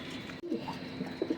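Top-quality maxi racer pigeons, including red checkers, give a few quiet, low coos close by in short bursts, with no talking.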